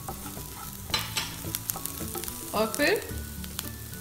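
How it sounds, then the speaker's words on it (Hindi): Chopped onion and green chilli frying in oil in a pan for an Indian masala omelette, giving a continuous sizzle broken by close scraping stirs and a few clatters of the spoon, with a brief word of speech. "अच्छे से फ्राई करेंगे जब तक कि ये थोड़ा सा ब्राउन ना हो जाए"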